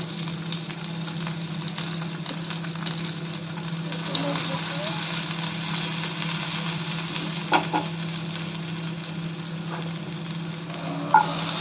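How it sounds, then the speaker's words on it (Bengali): Potatoes fry steadily in a covered pan, a constant low sizzle with a steady hum beneath it and a few brief clatters near the middle and end. "আলুটা ঢেকে ঢেকে ভাজা, আলুটাও ভাজা হয়ে গেল"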